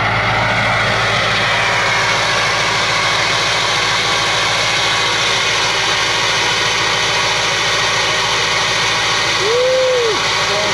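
A big truck engine idles after a cold start on a dark, cold morning, a loud, steady low rumble with a turbo hissing air over it and a brief rising whine near the end, no talking.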